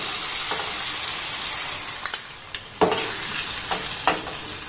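Beaten egg being stir-fried with mixed vegetables in a pan for an egg paratha filling: a steady soft sizzle with a few sharp scraping clicks of the spatula as it is stirred, close up and with no talking.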